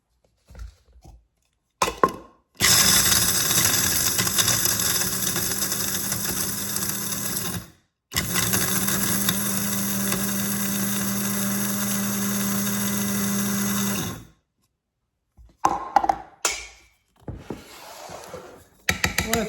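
An electric grinder processing aronia chokeberries runs in two long, steady whirring bursts separated by a brief stop, followed by shorter intermittent clatters as it starts and stops.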